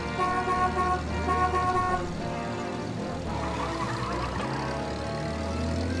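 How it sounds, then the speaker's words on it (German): Car horns honk in a 1930s-style city street in the video game Mafia: Definitive Edition, several overlapping toots blaring loudly at first, then fading into a steady traffic rumble with no talk. "Ihr mit euren primitiven Hupen hier."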